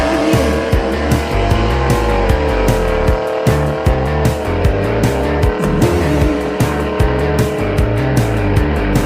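A race car engine roars continuously at high revs with rhythmic gear-shift surges and tire squeal, loud and close, with no talk.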